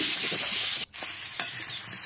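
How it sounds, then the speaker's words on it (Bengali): Potatoes sizzle steadily in hot oil in a pan, a close, continuous frying hiss with a brief dip and a stir partway through. "কড়াইয়ে এখন আমি আলুগুলো সুন্দর করে ভেজে নিব।"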